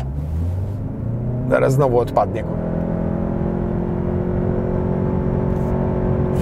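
A Ford S-MAX van accelerates hard from a launch, its engine note climbing steadily in a loud, rising drone, with someone speaking briefly over it near the start.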